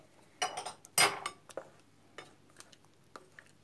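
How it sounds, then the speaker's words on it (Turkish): A wooden spoon stirs a natural cough-remedy mixture, giving sparse, close knocks and scrapes against the pot, with one sharper clink near the start and quieter taps afterward. "iyice karıştırıyoruz."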